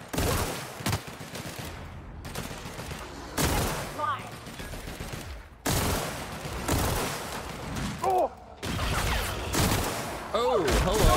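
Gunfire rattles through a firefight in the video game The Outer Worlds, with loud, dense bursts of shots broken by short pauses and some brief tonal game sounds mixed in.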